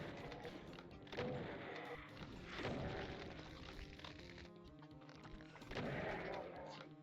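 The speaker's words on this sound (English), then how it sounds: "So let's go ahead and get our rocket launcher, say hi." Rocket launcher fire in the Doom TNT shooter, UV difficulty, with several loud booming blasts spaced a second or two apart over a dense bed of ongoing combat noise.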